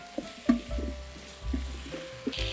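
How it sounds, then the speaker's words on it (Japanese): Onions and mushrooms stir-fried with a tablespoon of flour in an electric pressure cooker pot make a soft, low sizzle broken by repeated scraping stirs and spoon knocks, close by and with no talking. "薄力粉大さじ1杯で炒め合わせていきます"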